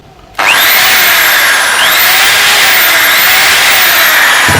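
An electric drill machine runs loud and close, starting abruptly and then holding a steady high whine with slight pitch dips as it keeps spinning.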